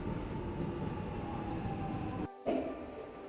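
Train pulling into a station, a steady broad rumble and hiss of the approaching cars under the platform ambience, then a brief cutout followed by a louder burst as it draws near.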